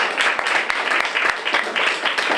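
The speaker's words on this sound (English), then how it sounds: "If I could get a round of applause for everyone." A round of applause from an audience, a burst of dense clapping with a few sharper individual claps standing out, loud and close throughout.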